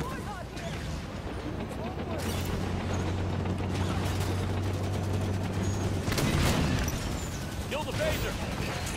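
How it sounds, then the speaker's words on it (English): Halo 5 campaign gunfire crackles in dense bursts amid mechanical clatter and battle noise, moderately loud and continuous, with a sharper volley near the end. "What is firing at us, and where?"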